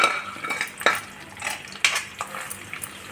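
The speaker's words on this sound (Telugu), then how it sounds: "ముక్కలంతా బాగా డీప్ ఫ్రై అయ్యాక వేసుకోండి డీప్ ఫ్రై చేసుకున్నామండి" Chicken pieces for Andhra-style chicken pickle deep fry in a pan as a metal spoon scrapes and clinks while stirring, giving several sharp knocks over a soft, steady sizzle, close up with no talking.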